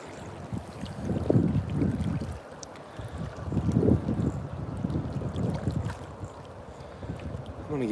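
Outdoor wind gusts buffet the microphone beside a river riffle on a fishing outing, swelling in low rushing waves over a constant background of moving water.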